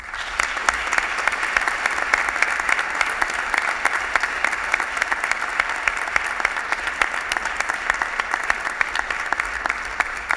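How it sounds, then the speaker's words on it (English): An audience at an awards convocation gives a round of applause, dense steady clapping that fills the whole stretch at an even loudness, close and sustained. "a round of applause"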